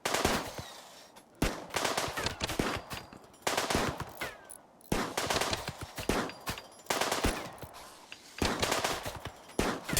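Colonists in the video game RimWorld shoot at bug hives in repeated rapid bursts of automatic gunfire, with short pauses between volleys, for the whole stretch and no talking.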